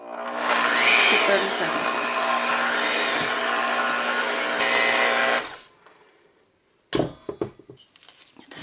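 An electric mixer beats cheesecake batter on low with a steady whirring drone for about five seconds before switching off. A few clattering knocks and a brief spoken remark follow after a short pause.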